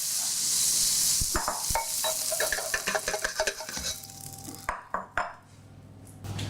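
Beef and mushrooms in a pan for beef bourguignon give a loud hiss that fades, then a run of sharp scraping and tapping stir strokes over a softer sizzle, ending in a few isolated clatters, heard close.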